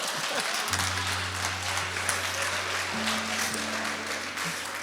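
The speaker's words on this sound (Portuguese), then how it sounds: "Uma salva de palmas para Jesus." Congregation applause during a church sermon, a steady broadband patter of many hands filling the room, with a sustained low organ or keyboard tone underneath and no speech over it.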